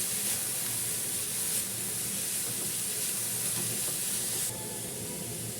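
Cauliflower and grated coconut being stirred together in a hot pan for a quick thoran, a steady soft sizzle and hiss throughout with faint scraping, dropping slightly quieter near the end.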